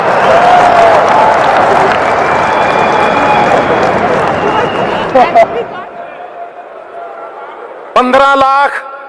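A crowd at a political rally for a politician breaks into loud, dense applause and cheering for about six seconds, then fades under murmuring, ending with a short burst of an amplified voice.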